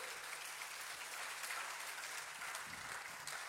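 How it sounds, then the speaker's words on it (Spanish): Congregation in a Spanish-language evangelical church service claps steadily, a dense, even wash of applause that fills the room for a few seconds without a voice over it. "Dar un aplauso al Señor."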